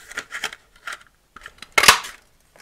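A paper punch clamps down and cuts through scrap cardstock in a handful of short, sharp crunching snaps, the loudest near the end, with quiet gaps between them.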